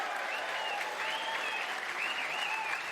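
A snooker crowd at the UK Championship final claps loudly and continuously for Ronnie O'Sullivan's win, a dense, steady wall of applause with scattered cheers throughout.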